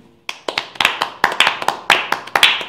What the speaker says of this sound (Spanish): Vamos a darle un aplauso de bienvenida a Palencia